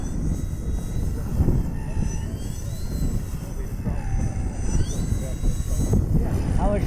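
Radio-controlled airplane flying in strong wind, its thin engine whine rising and falling in pitch at a distance over heavy wind buffeting, with voices talking now and then.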